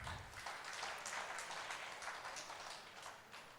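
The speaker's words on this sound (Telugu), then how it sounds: "ముందలుగా ఒకసారి మన గురువు గారికి ఒకసారి క్లాప్స్ కొట్టుకుందాం" Audience clapping for their guru at a brand ambassadors' meeting in Madurai, Tamil Nadu, a quiet, steady patter of many hands that runs on without voices.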